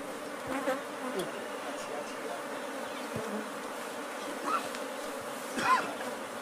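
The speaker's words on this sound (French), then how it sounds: "ces villageois ont repéré un essaim d'abeilles à l'intérieur de ce baobab." A swarm of bees inside a baobab tree buzzes continuously in a dense, droning hum, with a few brief louder passes close by.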